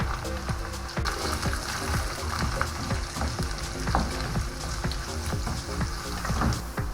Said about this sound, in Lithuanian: Mėsytę atkepė, dedam svogūnus.